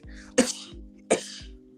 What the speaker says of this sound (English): The sneezing cat.